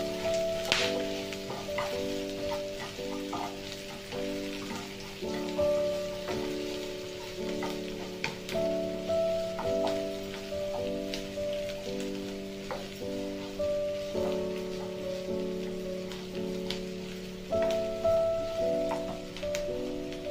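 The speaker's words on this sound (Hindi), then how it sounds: "मैं एक छोटा वाला साइज प्याज ली हूँ बारीक चॉप कट कर चुकी हूँ उसको भी डाल रही हूँ इसको भी अच्छे से भूनना है" A small, finely chopped onion frying in a pan makes a continuous crackling sizzle with light stirring, heard beneath steady background music for the whole stretch, with no talking.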